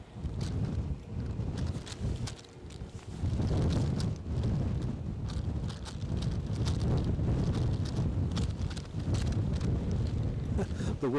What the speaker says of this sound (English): The wind is back from its tea break